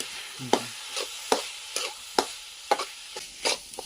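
Homemade masala and onion frying in a pan over a wood-fired stove for a spicy dried-fish dish, with a steady background sizzle broken by about eight sharp scraping stirs at an even, brisk rhythm, close and fairly quiet.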